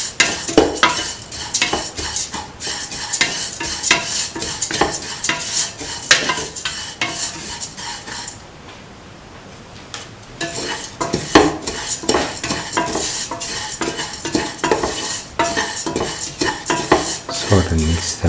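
Vermicelli pasta and shallots sautéed in a pan, with a steady run of loud, close spatula scrapes and clatters over a sizzling background that pauses briefly midway before resuming.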